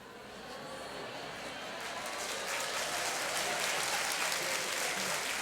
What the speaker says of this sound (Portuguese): Agora eu ganhei um aplauso.